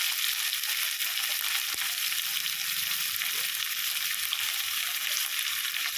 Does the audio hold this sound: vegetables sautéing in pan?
yes